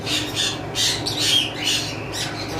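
Pet cockatiels squawk repeatedly in a series of harsh, close, fairly loud calls, with no talking.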